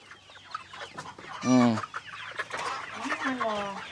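Backyard laying hens cluck and squawk close by, one loud call standing out among softer, overlapping clucks from the flock.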